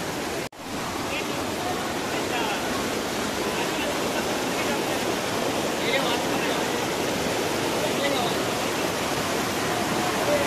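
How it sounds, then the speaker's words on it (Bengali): Saatsada waterfall in monsoon flow during a Maharashtra trek gives a dense, continuous roar of rushing water, loud and steady from close by with no break. "জলের স্রোত বেশ ভালোই রয়েছে এখন"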